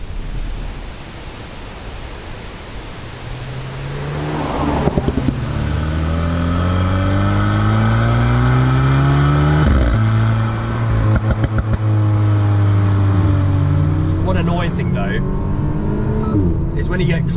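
An Alpine A110 with a 1.8 litre engine revs hard from inside the cabin, its engine note rising through the gears in sweeping climbs with clear drops at each upshift. The sound is loud and continuous, with some clatter.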